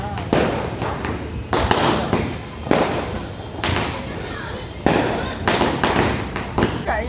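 Loud firecracker blasts go off one after another at uneven intervals, each a sharp crack followed by a short decay, over a constant background.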